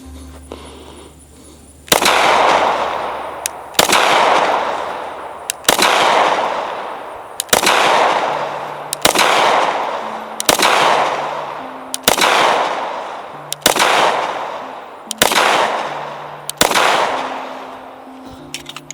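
A SIG P320 MAX pistol fires nine loud, sharp shots spaced about two seconds apart, each crack ringing out into a decaying tail before the next.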